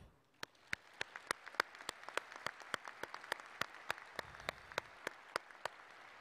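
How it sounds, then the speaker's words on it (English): Sparse applause from a college pre-commencement ceremony audience, distinct individual claps spaced irregularly, moderately faint and fairly close, with no talking over it. "please join me in a round of applause of appreciation and gratitude for their work."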